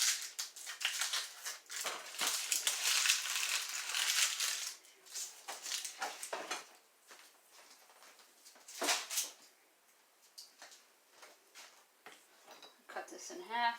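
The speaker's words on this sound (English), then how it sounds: "Quick way to peel an onion." Papery onion skin being peeled by hand for a pork chop dinner: dry crackling and crinkling, fairly loud and dense at first, then thinning into scattered, softer rustles with short pauses.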